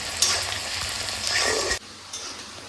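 Onions frying in a pan until reddish, a dense close sizzle with stirring scrapes that cuts off abruptly near the end, leaving a quieter hiss and one faint knock.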